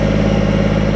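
A tractor engine drives forward at a steady, loud drone with a low pulsing rhythm and no change in pitch, heard close up and alone while a wind tower is being assembled.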